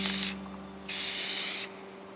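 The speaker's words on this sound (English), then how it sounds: "I'm gonna try very light mist of the paint" Two short bursts of aerosol spray paint hiss close by as a light satin mist goes onto wood, the second burst longer than the first, with a quiet pause between them.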